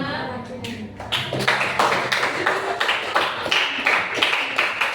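A classroom group claps for presenters from group 6 during a school session, bursting into a close, steady round of applause after a brief spoken remark, with irregular hand claps continuing evenly to the end.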